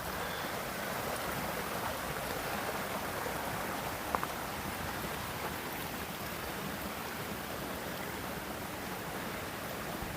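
Steady rushing of creek water beside a campsite at Bull Creek, a continuous broadband wash with no breaks, close and even throughout, with no voices.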